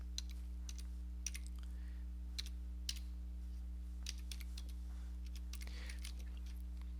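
Keys on a computer keyboard are pressed in short bursts of soft clicks, quiet and close over a steady low electrical hum.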